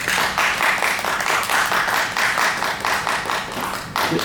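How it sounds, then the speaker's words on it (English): An audience at a live chat show claps in a sustained burst of applause, dense and fairly loud, with a brief dip before a final swell. "Give a round of applause."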